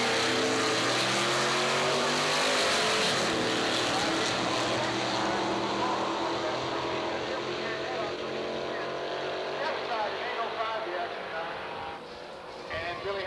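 Engine roar from a 1962 Corvette with a third tail light at a drag strip, loud and continuous across the run, with an announcer's voice over it.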